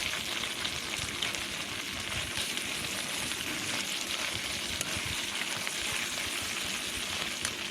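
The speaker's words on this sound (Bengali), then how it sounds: "এখন আমি কিন্তু দিয়ে দেবো সেই সিদ্ধ করে রাখা মুগ ডালগুলো" Sizzling fish-head masala being fried in a pan as boiled mung dal goes in, a steady close hiss of frying running throughout with no voices.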